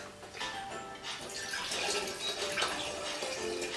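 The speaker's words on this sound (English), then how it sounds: "then pour in the Kodak hypo clearing agent" Kodak hypo clearing agent poured into a film developing tank while processing black-and-white 127 film: a continuous close splashing and trickling of liquid that swells slightly toward the end.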